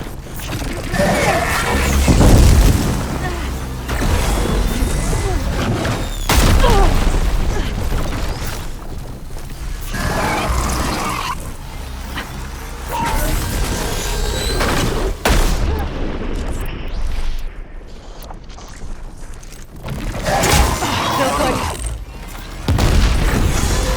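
Machine gunfire from a hovering machine enemy in the Horizon Forbidden West video game, rapid bursts and heavy booms with mechanical clanks amid battle noise, loud and continuous, with voices speaking at times over it.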